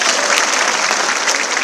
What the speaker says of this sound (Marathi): अगं टाळ्या नाही वाजवायच्या का?